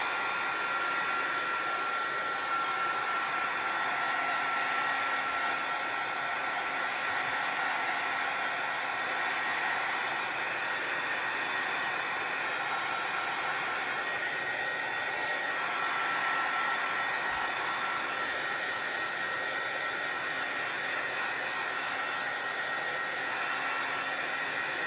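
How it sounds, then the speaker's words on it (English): Heat embossing tool blowing hot air over note cards, a steady loud close whooshing drone with a thin whine, no voices. "I want to keep the heat tool moving because I've already heat embossed that"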